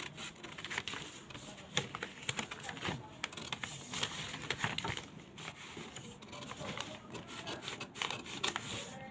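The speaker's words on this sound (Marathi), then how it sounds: "सुरुवातीला पाठीमागचा मुंडा तो कट करून घ्यायचा आहे आपल्याला." Blouse fabric is cut with scissors, giving a quiet, continuous run of scratchy snips and rustles that goes on for around nine seconds with no talking.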